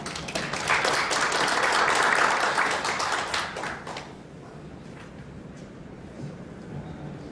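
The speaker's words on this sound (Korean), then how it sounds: "뜨거운 박수 부탁드립니다." An audience at a symposium applauds as a guest is introduced, a full burst of clapping for about four seconds that then thins into scattered claps and quiet room tone.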